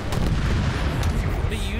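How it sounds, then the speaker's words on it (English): Deep rumbling booms of explosions in Age of Empires 3 Definitive Edition roll continuously, a heavy low-pitched barrage with a few sharper cracks on top. "What are these explosions?"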